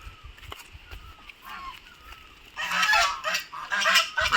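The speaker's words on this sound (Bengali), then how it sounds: "রাজহাঁস, রাজহাঁস।" Geese honking at a homestay in Takdah, Darjeeling, near pine forest; scattered faint calls at first, then a loud, dense burst of overlapping honks in the second half, fairly close.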